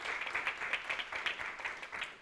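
An audience at a creative writing workshop applauding, a sustained patter of many hands clapping at moderate volume, somewhat distant and even, with no voices over it.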